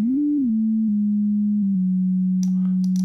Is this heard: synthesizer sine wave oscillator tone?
yes